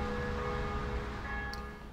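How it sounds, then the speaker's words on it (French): Faint church bells ring at a distance in Toulon, their sustained tones hanging steadily over a quiet background hum, with no one speaking. "j'entends les cloches de l'église"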